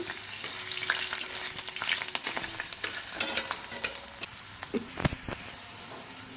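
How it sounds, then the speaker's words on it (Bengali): Potatoes fry in hot mustard oil, sizzling and crackling steadily in the pan, with sharp pops and spatters scattered throughout, close and fairly loud. "এবার আলুটাকে একটু করে ভেজে নেব"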